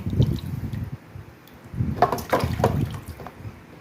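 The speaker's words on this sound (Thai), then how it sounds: "เนี่ยเทน้ำเกลือก่อน" Salt water poured while preparing an old-style Thai banana blossom salad in a kitchen, a close, gurgling splash in two uneven bursts with drips between.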